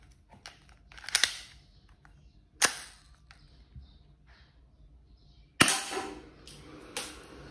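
A plastic K17 toy BB gun fires at a can, giving several sharp snapping shots spaced a second or more apart, each with a brief rattling tail, close and loud against near silence.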